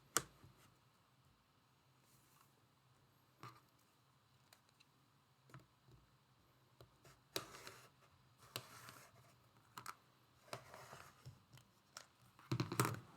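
Scissors cut through six stacked fabric pieces for a quilt block, faint and close, with scattered snips and scrapes that grow busier and louder toward the end.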